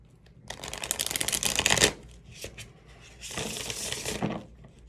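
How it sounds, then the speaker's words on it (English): Close-up shuffling of a tarot card deck: a long riffle with rapid flicking card slaps, a pause, then a second quieter shuffle, with no talking. "let me go ahead and get some clarifying cards"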